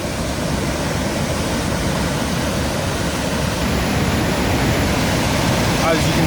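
A storm-swollen river rushes in a loud, continuous broadband roar that stays steady and close throughout, with no other clear sounds.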